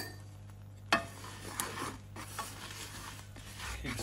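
Vermicelli and rice are stirred and toasted in a pot, giving a steady scraping, rasping rub with a few sharper knocks of the spoon against the pot, close up and with no talk.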